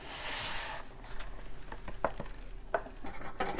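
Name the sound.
dry couscous poured into a pot of hot water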